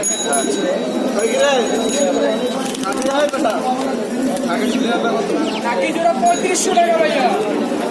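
Pigeons at a busy pigeon market in Mirpur 1 chatter and coo continuously in a dense, close chorus, with people talking throughout.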